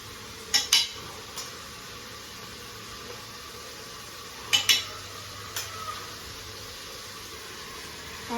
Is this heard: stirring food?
yes